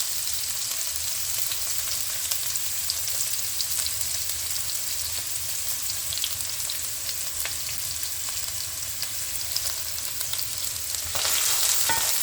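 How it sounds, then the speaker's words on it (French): Onions, yellow peppers and carrots fry in a saucepan with a steady, close sizzle and crackle that stays even throughout, and a few faint stirring clicks appear near the end. "Donc là, j'ai les oignons, les poivrons jaunes et les carottes. Voilà, je mets tout ça dans ma casserole."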